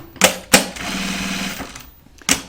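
A sewing machine stitches fabric for a project bag in one steady, close run of about a second, with sharp clicks and handling knocks before and after.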